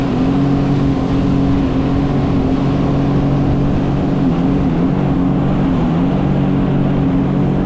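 A Sea-Doo personal watercraft with a faulty, cutting-out engine revs up on a river, its steady loud drone holding tonal harmonics that waver slightly as it accelerates, with no talk over it.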